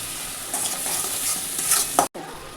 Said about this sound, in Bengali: সব মশলাগুলোকে ভালো করে মিশিয়ে নিই